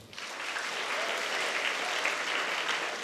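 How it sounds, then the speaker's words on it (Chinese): Audience applause at a Malaysian Chinese orchestra ensemble competition award ceremony, building quickly into a sustained, even roar of many clapping hands. "掌声。"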